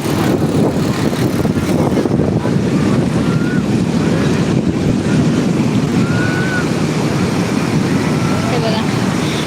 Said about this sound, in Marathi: पाण्याच्या लाटाचा आवाज किती येतो ना